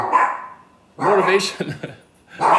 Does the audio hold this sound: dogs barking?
yes